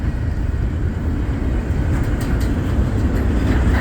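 Norfolk Southern freight train rolls past north of Findlay, Ohio, a steady, close, loud rumble of rail cars and wheels gathering speed, with no voices over it.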